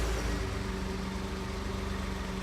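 A Ford F150 EcoBoost turbo engine idles quietly and steadily, a low, even hum with a faint tonal whine, fairly soft and uninterrupted.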